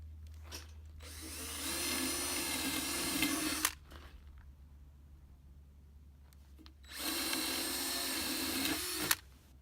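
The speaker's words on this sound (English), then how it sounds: "I'm going to drill some holes in the corners that I'm going to be cutting out." Two long bursts of a power drill whirring steadily through wood, each lasting a few seconds, separated by a quiet pause with faint background hum.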